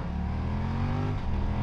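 A 2022 BMW F900R Sport motorcycle engine revving and pulling steadily, a loud continuous drone with a slowly shifting pitch, heard close up from the rider's position with no talking.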